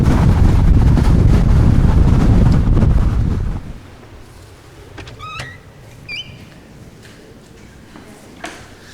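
Strong gusting wind buffets the microphone on the Northumberland coast, a loud roaring rumble for several seconds that suddenly drops to a quieter breeze with a few faint bird chirps.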